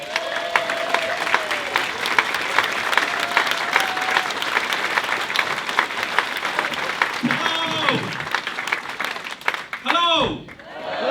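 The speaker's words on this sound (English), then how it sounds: "start the clapping!" A comedy club audience claps and cheers for a comedian being welcomed to the stage, sustained dense applause that rolls on for many seconds, with a voice rising over it near the end.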